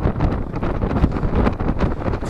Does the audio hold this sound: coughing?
no